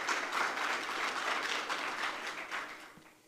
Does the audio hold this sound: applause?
yes